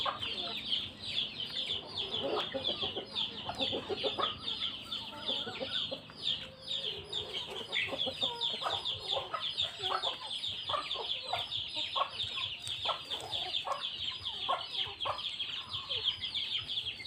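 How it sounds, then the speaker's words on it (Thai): A flock of farm chickens gathers to eat rice, clucking and squawking constantly at close range in lively overlapping bursts, with a little faint speech in the background. "อ่ะไก่มากินข้าวเต็มเลยทุกคน"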